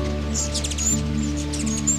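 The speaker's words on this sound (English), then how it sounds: "That's the sound of a hummingbird swarm." A swarm of hummingbirds outside a kitchen window as a storm moves in: rapid high chirps and squeaks overlapping over a steady low hum.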